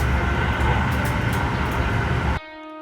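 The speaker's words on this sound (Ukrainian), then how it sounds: "Тому що ми їдемо в наступне місто потягом." Inside a train riding between Polish cities, a loud steady rumble and rattle of the carriage fills most of the moment, then cuts abruptly to quiet with a faint tonal hum.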